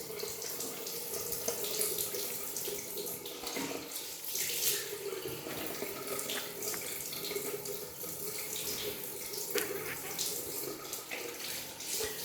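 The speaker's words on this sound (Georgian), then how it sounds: "ნელთბილი წყალით." Warm tap water runs steadily from a faucet into a sink while soap is rinsed off, a continuous close splashing hiss with small shifts in the flow and no talk.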